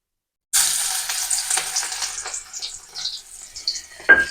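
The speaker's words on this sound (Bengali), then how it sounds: "রসুনটা দিয়ে আমি রসুনটাকে অল্প করে ভেজে নেবো।" Crushed garlic cloves hitting hot oil in a pan, a sudden loud sizzle that bursts in and keeps crackling and spitting steadily, close by, with a few stirring scrapes and a sharp clink near the end.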